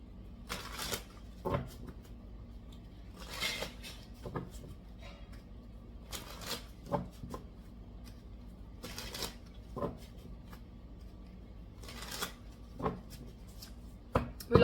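Tarot cards are shuffled in repeated short riffling bursts, close and fairly quiet, separated by brief pauses against a quiet room background.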